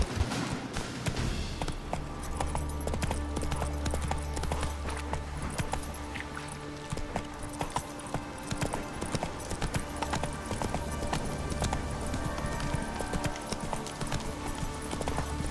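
Rapid, steady clip-clop of horse hooves in The Witcher 3 amid a busy mix of other game sounds, continuous and fairly loud throughout.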